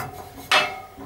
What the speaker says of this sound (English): That's the clapper there, banging against the clapper of the adjacent blade.